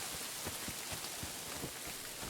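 Rain falls steadily in the medieval world of Kingdom Come: Deliverance II as a soft, even hiss with faint scattered drops, quiet and alone without voices.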